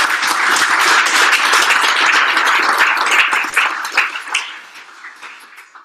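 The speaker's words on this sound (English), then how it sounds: "One last round of applause." A closing round of applause from the crowd at a WordPress meetup, dense and loud clapping that holds steady for about three seconds, then thins into scattered claps and fades out.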